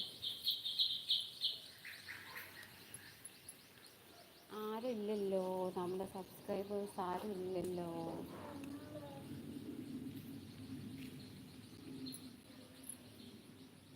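Faint high chirps from sparrow chicks in a nest early on, then a voice talks over a quieter background with occasional soft chirping.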